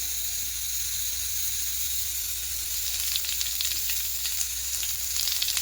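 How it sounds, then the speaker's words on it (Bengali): Whole cumin seeds hit hot mustard oil in a Bengali kitchen, building a constant hiss that swells into a denser, crackling sizzle partway through, close and unbroken, with no talk. "সর্ষের তেল দিয়ে দিয়েছি, তেলটা গরম হয়ে গেছে। এবার এখানে দেব গোটা জিরে, দেবো ফোড়নে।"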